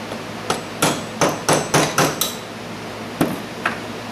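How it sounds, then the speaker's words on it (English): A hammer taps a small metal punch in a series of sharp, close metallic strikes, about eight hits spaced irregularly, with a pause before the last couple. "put my little punch in there, take my hammer, give it a little tap"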